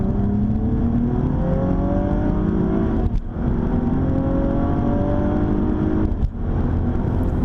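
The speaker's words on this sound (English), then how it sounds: "Keep your right foot flat to the floor on full throttle upshifts, and the ATS-V will keep those turbos on boil between the gear changes." A turbocharged Cadillac ATS-V accelerates at full throttle, its engine roaring loud and rising in pitch, broken by two quick no-lift upshifts that briefly dip the sound before it climbs again.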